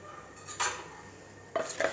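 A spoon stirs watermelon-peel pudla batter, with baking soda and a squeeze of lemon, in one direction in a bowl, giving two brief close metal clinks against the bowl separated by a quiet pause.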